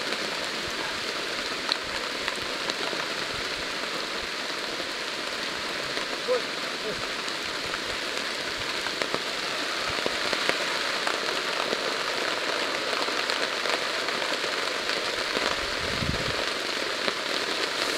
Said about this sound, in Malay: kami semua sedang melarikan diri daripada hujan